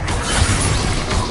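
A Bombarda blasting spell goes off in Hogwarts Legacy, a dense, steady burst of low rumble and crackling debris that fills the whole moment at close range with no speech over it.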